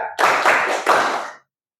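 A class of pupils at a morning lesson in an Indonesian school claps in a counted pattern, with about three close, loud bursts of group clapping over a second and a half before stopping abruptly.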